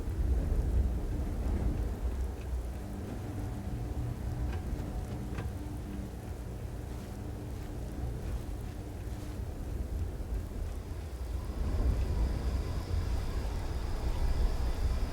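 Steady rainfall with low rumbling thunder in the video game Starfield, a continuous wash of rain and deep rolling booms heard from shelter, moderately quiet and without any talk.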